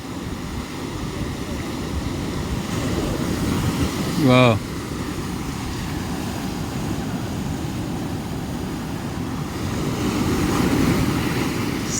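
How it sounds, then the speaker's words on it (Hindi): Ocean waves roll and crash against Rock Beach in Puducherry. The surf is a continuous loud roar with wind across the microphone, and a man briefly exclaims partway through. "ये हाहार हाहार करती हुई लहरें"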